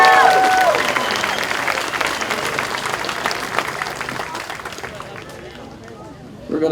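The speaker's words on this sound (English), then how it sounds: "Give this man a big round of applause." Audience applause for singer Lee Greenwood at an outdoor 9/11 memorial service at Curlew Hills, a sustained crowd clapping that slowly fades near the end, with a brief vocal phrase at the start.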